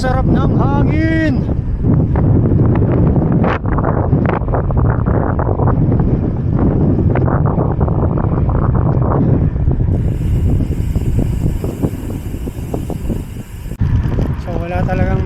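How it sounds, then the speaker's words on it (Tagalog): Strong wind rushes and buffets the microphone during a bicycle ride through open farmland in Nueva Ecija, a constant loud roar while someone talks over it. "Napakasarap ng hangin."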